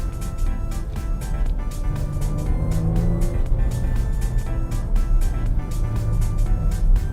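A Jaguar F-Pace S engine hums and surges steadily from inside the cabin during spirited left-right driving, with continuous road and engine noise and no speech.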